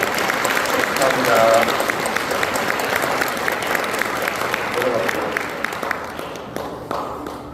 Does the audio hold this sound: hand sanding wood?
no